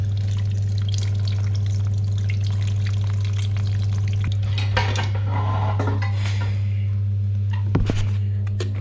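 Water runs and trickles steadily as an old Part 1 ball valve is lifted, over a constant low hum, with occasional clinks and knocks of metal parts nearby.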